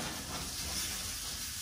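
A ribeye steak sizzles under a broiler, giving a brief, steady, dense hiss at moderate level with no talk.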